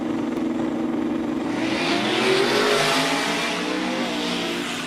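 Drag racing cars launching side by side down a street-style strip, a loud sustained roar of engines accelerating and holding at full throttle for several seconds, with no talking.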